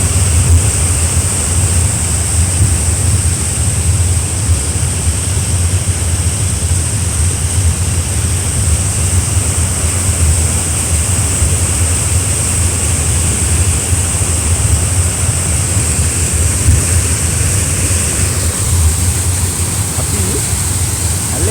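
Water pours down a waterfall and flows on, a steady, even rush of noise that holds for the whole stretch with no break.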